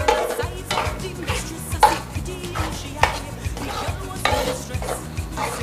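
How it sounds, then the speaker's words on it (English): Vegetables for chow chow being stirred in a pot, a steady run of scraping, clattering strokes with a soft sizzle beneath, close and moderately loud with no voices. "we're adding the veggies. Stirring while we're adding in."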